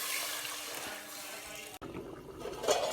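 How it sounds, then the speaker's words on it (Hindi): Water is poured into moong daal frying in a pan, giving a steady hissing sizzle that breaks off abruptly and turns into a softer bubbling wash, faint and close, with no speech. "तो इसके अंदर हम फ़ौरन पानी डाल लेंगे"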